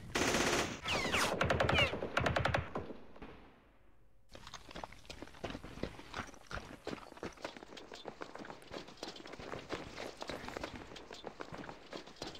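Rapid bursts of machine gun fire from a Campaign Series Vietnam war game, loud and dense for the first few seconds, then scattered sharp shots and crackling gunfire continuing at a lower level.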